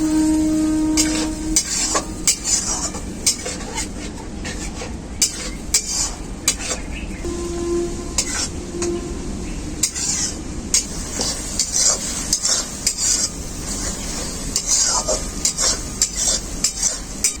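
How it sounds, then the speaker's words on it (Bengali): Spice masala with turmeric powder being stirred and sautéed in a pan for a river fish dish, with repeated sharp spatula scrapes and clinks over a continuous sizzle, close and fairly loud. "মশলাটাকে এরপর আমি খুব ভালো করে কষিয়ে নেব"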